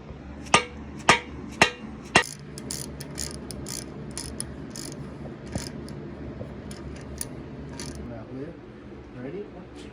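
Four sharp metallic hammer strikes land in quick succession while freeze plugs go into a 454 engine block, followed by scattered clinks and tool rattles in a garage, with people talking.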